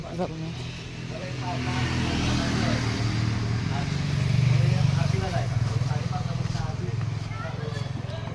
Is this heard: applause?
no